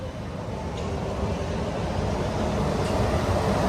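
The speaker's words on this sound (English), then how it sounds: "there goes the monorail" A Disneyland monorail rolls past with a broad steady rumble and whoosh that swells slightly, heard amid busy park ambience.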